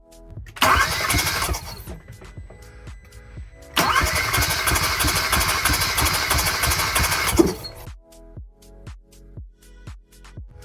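Hyundai Veloster turbo engine cranking during a cylinder test: two loud, close bursts of rapid rhythmic starter cranking separated by a pause, then quieter clicks and ticks as the cranking stops, with no talk.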